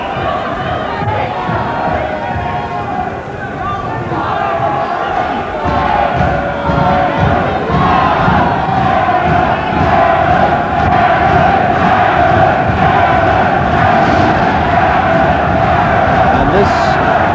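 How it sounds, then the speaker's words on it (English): A packed Coventry Sports Centre crowd roars during a 1989 England versus Ireland amateur boxing bout, the cheering swelling louder as spectators rise, with a commentator speaking over the din throughout. "Coventry Sports Centre now absolutely coming to their feet to cheer Woodall on."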